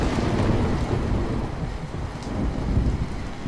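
Heavy rain and thunder on a hut in a cartoon, a constant hiss of downpour with deep rolling thunder rumbling underneath, loud and close.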